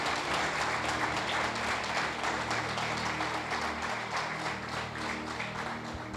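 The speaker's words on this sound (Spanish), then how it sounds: "Un aplauso a Jesús." Church congregation applauding during a Sunday service, a dense, steady wash of many hands clapping that fills the room at close range and continues evenly throughout.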